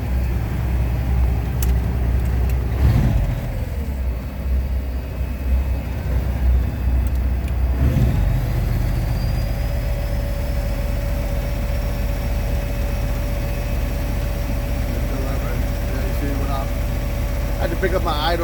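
A vehicle engine idles at a raised speed to feed more power to an inverter. A constant, close droning hum lasts throughout, with a voice speaking over it at times.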